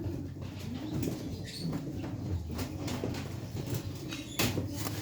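Pigeon cooing during a bird vaccination, a low, soft rhythmic coo repeating steadily through the clip at close range, with light handling rustles and a brief scrape near the end.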